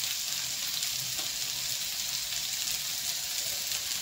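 Onions frying with salt in a pan, a steady close sizzle with faint stirring, no voices.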